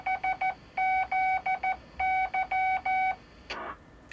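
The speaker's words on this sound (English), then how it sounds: "Now what you just heard there was the repeater just sent its CW ident after every 10 minutes." An amateur radio repeater built around a 6502 CPU sends its Morse-code CW ident as a clear train of short and long beeps, followed by a brief burst of noise.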